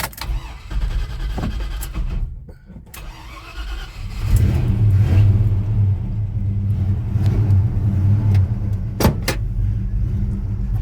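A Chevy C10 pickup with a 4-speed manual starting up with a whirring crank, then its engine idling and rumbling steadily, loud and close from inside the cab, with a few clunks.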